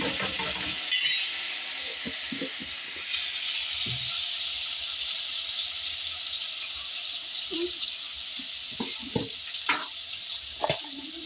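Fresh garlic paste frying in a pan for chicken gravy, a steady hiss of sizzling oil with occasional clinks and scrapes of stirring.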